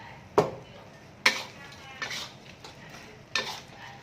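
Fried oyster mushrooms being stirred into a boiling buttermilk sauce in a pan, with a few sharp utensil clacks against the pan spaced across a few seconds over a faint background sizzle.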